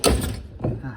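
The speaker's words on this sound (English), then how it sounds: "Don't slam your doors, close them nicely." A car door slams shut with a loud, close thud, followed a moment later by a second, softer closing thump.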